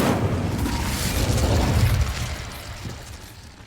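The Incendio fire spell cast in Hogwarts Legacy, a loud roaring whoosh of flame that bursts at once and fades away over a few seconds, heard alone.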